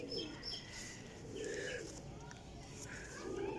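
Soft, low cooing of high flyer pigeons repeats in several throaty bursts close by, with faint chirps and rustling in the background.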